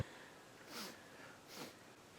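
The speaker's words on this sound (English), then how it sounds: "I think someone is snoring, sleeping." Two faint, breathy snoring sounds come and go slowly in a quiet room, each a soft rasping inhale spaced under a second apart.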